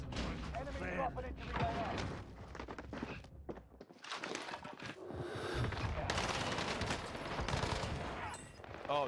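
Gunfire in the Call of Duty Warzone video game on Rebirth Island, bursts of automatic shots rattling loudly through most of the stretch with a short lull in the middle, mixed with footsteps and thuds.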